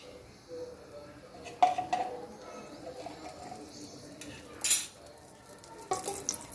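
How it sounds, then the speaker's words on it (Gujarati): A spoonful of ghee heats in a pan for white sauce pasta, with a soft sizzle under a few sharp spoon scrapes and clinks against the metal, close by and fairly quiet. "મેં અહીંયા આગળ એક ચમચી ઘી લઈ લીધું છે"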